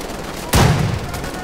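A sudden small explosion in the shooter game Wolfenstein: The Old Blood, a single sharp burst that strikes hard, then rumbles and fades over about half a second against a quiet backdrop.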